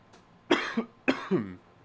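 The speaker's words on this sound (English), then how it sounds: "I'm coughing everywhere, bro." Two sharp coughs from a sick person, each a quick harsh burst followed by a rough rasp, close and fairly loud with a short pause between them.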